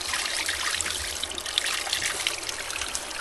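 Water trickles and splashes steadily, a close, continuous bubbling flow with no voices.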